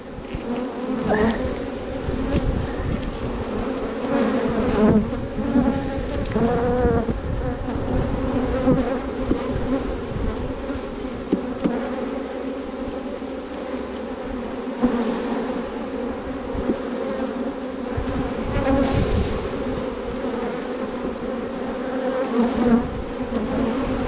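Dense, loud buzzing of a large honeybee colony separated from its queen swarming close by, a continuous agitated drone with individual insects whining past.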